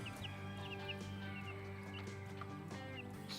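Meat chickens cluck and chirp in a ChickShaw set out on grass pasture, a scattering of short bird calls over a steady low hum, moderately close and without any talking.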